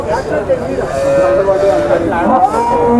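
A cow at a Chintamani cattle market lets out a long, loud, wavering moo close by. The market's murmur and a voice run underneath.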